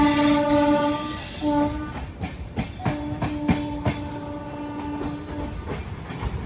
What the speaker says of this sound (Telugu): అటు సైడ్ ఏదో గూడ్స్ బండి ఆ జంక్షన్ రూట్లోకి అయితే వెళ్తుంది.